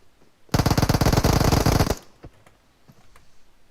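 A long, rapid burst of automatic machine-gun fire in a video game, loud and close, lasting about a second and a half, then a few faint scattered clicks and taps.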